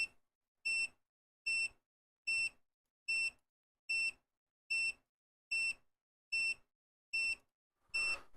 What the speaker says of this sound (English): if I plug it into 5 volts again, this thing's just going to endlessly beep at me.